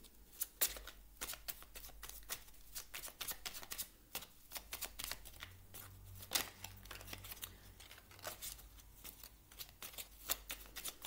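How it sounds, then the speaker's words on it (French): Oracle cards being drawn and shuffled by hand, a long run of quick, crisp riffling snaps and papery flicks that is close, fairly soft and steady, with no talk. "On va prendre une dernière carte ici du petit oracle de la mission de vie."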